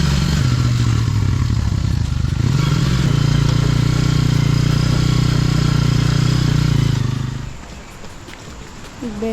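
Honda ADV160 scooter engine labouring on a slippery, muddy road near Dingalan, Aurora, a loud steady drone with clattering that fades out near the end.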